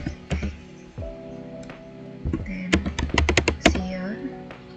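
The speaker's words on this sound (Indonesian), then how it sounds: "Di sini kita ketikkan" Typing on a computer keyboard while installing and configuring Omeka Classic, with a burst of quick key taps toward the end, interspersed with short clicks and partly overlapping someone speaking.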